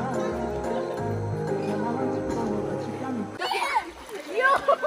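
People splash and play in a creek at a campground nature park, with water slapping and sloshing close by while children and adults talk and shout over background music.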